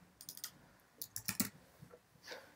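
Fingers tap out a short post on a computer keyboard, giving quick clusters of light, close key clicks separated by brief pauses.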